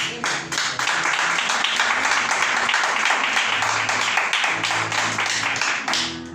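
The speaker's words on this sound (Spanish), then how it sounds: "Denle un aplauso a Él" Church congregation applauding during a Sunday school service, a sustained, fairly loud wash of many hands clapping with faint tonal sounds underneath.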